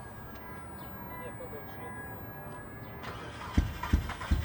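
Turbocharged AWD Dodge Stratus Coupe engine cranking and catching through a newly built exhaust, a low rumble rising after a quiet stretch with a few sharp bursts near the end, with faint voices in the background.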